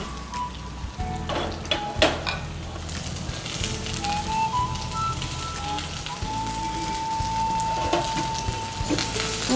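Vegetables sauté in a pan with onion, ginger and garlic, giving a steady close sizzle and crackle with occasional clatter of a utensil against the pan.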